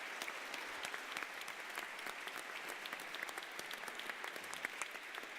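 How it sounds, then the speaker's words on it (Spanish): An audience at a Spanish-language talk on creation claps for the guests, a dense, steady patter of many hands at moderate distance, continuing evenly throughout with no speech over it. "le demos un gran aplauso a nuestros invitados"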